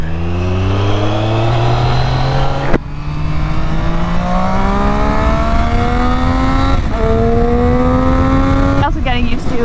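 A Triumph Street Triple 675 motorcycle pulls away under throttle, its engine note rising through the gears in repeated climbing sweeps, loud and close, with brief drops at each shift.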